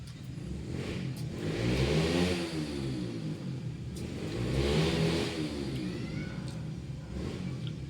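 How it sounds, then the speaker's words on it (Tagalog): Neighbours' motorcycles revving nearby, two rising and falling engine surges a few seconds apart over a steady rumble, heard from a moderate distance. "Patakbo ng motor nila."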